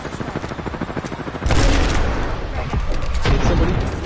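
Rapid gunfire in a shooter video game, bursts of automatic shots and heavy booms that swell sharply midway into a dense, loud barrage, with faint voices underneath.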